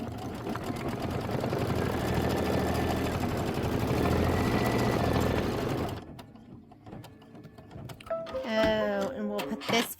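A sewing machine stitches a tack down on a quilt, running fast and steady for about six seconds before stopping, followed by quieter clicks and a brief voice.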